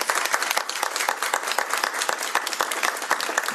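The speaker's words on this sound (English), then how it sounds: "So can we give them a round of applause?" An audience at the 2025 Washington State Juneteenth Celebration applauds the Washington Federation of State Employees, sponsors of the event: loud, dense clapping that holds steady throughout.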